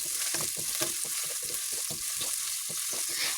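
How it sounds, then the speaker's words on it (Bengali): Chopped onions sizzle in hot oil in a pan while being stirred for a green bean bhaji, a steady bright hiss broken by soft rhythmic scraping strokes, close and fairly quiet. "এবার কুচানো পেঁয়াজ দিয়ে হালকা নেড়ে নিচ্ছি যতক্ষণ না পেঁয়াজ একটু নরম হয়।"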